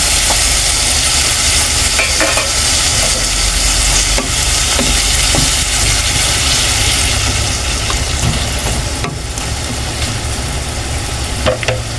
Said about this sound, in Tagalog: Lagyan natin yung konting sabaw. Lagyan na natin yung ating chicharon.